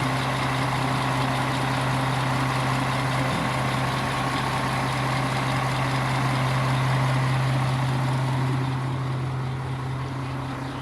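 Dump truck engine idling steadily with a strong low hum while its hydraulic jack raises the bed, a continuous close mechanical drone without pauses.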